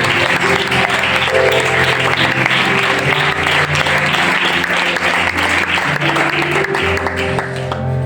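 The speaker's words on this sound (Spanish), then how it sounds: "Dale ese aplauso para el Señor" A church congregation in Aranda applauds together during a sermon, a loud, sustained, dense wash of clapping with crowd murmur that fills the whole stretch and fades slightly toward the end.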